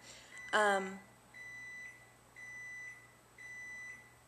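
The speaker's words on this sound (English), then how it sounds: "I hate that stupid microwave." A microwave oven gives three evenly spaced, moderately loud single beeps about a second apart, following a brief vocal sound at the start in an otherwise quiet room.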